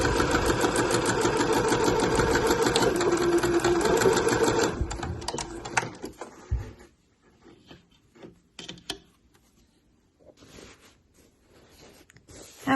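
A sewing machine sewing the lining of a bag, running steadily for about five seconds before stopping, followed by scattered handling clicks and rustles of fabric.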